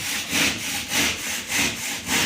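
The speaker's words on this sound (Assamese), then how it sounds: "মই বটাল দি কৰিম আৰু এয়া খুলনি আৰম্ভ কৰিছোঁ" A chisel cuts into a wooden door to seat a lock, giving steady rhythmic scraping strokes, about eight in quick succession, close and fairly loud with no talking.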